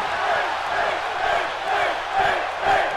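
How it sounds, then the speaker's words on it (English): Wrestling arena crowd in WWE 2K17 chants for Finn during a RAW match in Greensboro, NC, a dense roaring swell with rhythmic surges, loud and continuous. "Crowd chanting for Finn"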